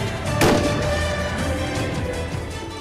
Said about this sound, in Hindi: हर कमांड के साथ ट्रिगर दबना जरूरी है।